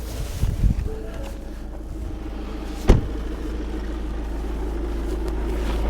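A 2017 Ford Mondeo 2.0 TDCi diesel starts with a brief crank burst, then settles into a steady low idle rumble heard close up from inside, with a short knock midway.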